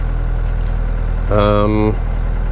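A 1970s Mercedes W115 220D diesel car engine idles with a steady low rumble throughout, and a brief voice speaks partway through.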